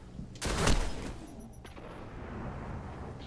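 A single loud shotgun blast in a PvP video game, sharp and close, followed by a fading tail and faint background game noise with no talking.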